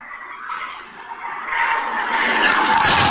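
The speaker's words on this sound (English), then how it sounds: "You can hear the tires screeching from over." Car tires screech and skid loudly as a car goes through an intersection toward a house, picked up by a doorbell camera. A thin squeal rises into a harsh, broadband skid that builds and gets louder toward the end.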